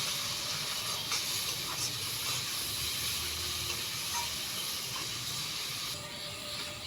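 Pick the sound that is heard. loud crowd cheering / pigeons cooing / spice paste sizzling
spice paste sizzling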